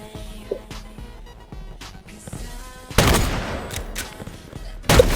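Rapid bursts of gunfire ring out in an Xbox sniper duel game, with dense volleys and sharp blasts that swell loud toward the end over quieter game sounds.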